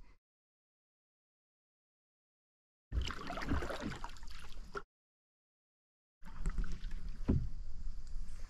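A canoe is paddled across a lake in Restoule Provincial Park, Canada, in autumn. Two separate bursts of close paddle strokes and water swishes are broken by stretches of silence, and light wind is audible.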